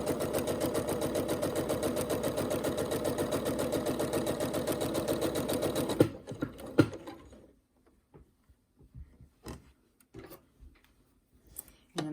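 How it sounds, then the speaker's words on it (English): Sewing machine running steadily for about six seconds as fabric is fed along a marked line, a fast even mechanical patter, close and loud, then stopping, followed by faint handling clicks and taps. "I'm sewing along that line."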